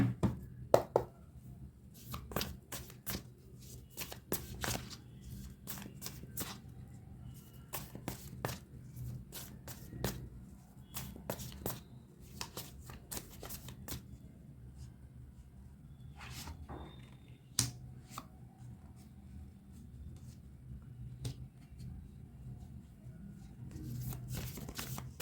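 Tarot cards are shuffled by hand in a quiet room, a long run of soft, irregular flicks and snaps of the deck, close and faint against a low background hum, with no talking.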